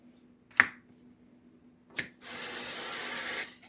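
Two short clicks from a spray can, then a steady hiss of cooking oil spray onto tortillas lasting over a second before it stops abruptly.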